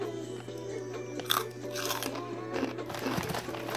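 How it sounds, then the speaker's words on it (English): Cheetos cheese snacks being crunched and chewed up close, a steady run of dry, crackly bites with a few sharper crunches, no talking. "now the food review is Cheetos. I like eating Cheetos"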